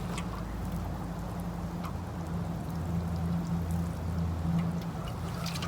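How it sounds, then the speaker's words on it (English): Water pours steadily onto a newly planted garden bed, a continuous moderate splashing trickle with a low hum beneath, no talk. "We're gonna give that a little bit of water."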